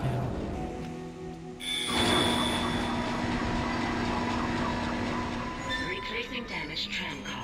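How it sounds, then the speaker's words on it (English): A tram car being replaced in the video game Interstellar Handyman Extraordinaire: a steady mechanical rail-car hum and rumble with tonal whine, starting abruptly and then fading into clattering movement, with a faint game voice over it. "Replacing damaged tram car. Please stand by."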